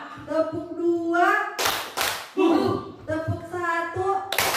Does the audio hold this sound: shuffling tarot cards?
no